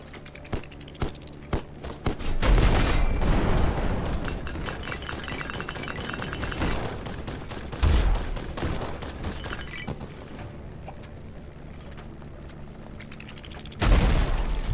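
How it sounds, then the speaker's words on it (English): Warship broadside cannon fire in a video game battle against invading pirates and flying warships above the clouds: sharp clacks give way to heavy booming volleys with rattling bursts, several loud blasts rolling over a sustained roar. "But man, that broadside was absolutely outstanding."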